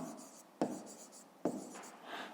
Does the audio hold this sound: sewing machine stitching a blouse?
no